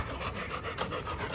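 A dog pants rapidly and steadily at close range, with quick rhythmic breaths filling the whole moment and no talking.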